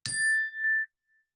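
A single bell struck during a meditation session, a clear bright ding ringing out and fading within about a second, alone and fairly close.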